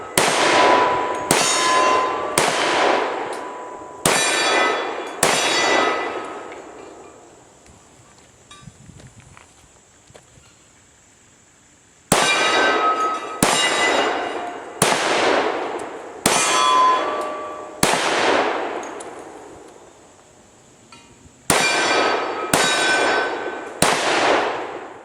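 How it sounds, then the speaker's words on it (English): Rapid strings of 10mm shots from a Glock 20SF pistol ringing loudly off steel targets, each burst of sharp cracks followed by bright metallic clangs, with a quiet pause between the volleys. "Well, that huge magazine capacity, it just seems like the Glock 20 SF shoots forever before it runs dry."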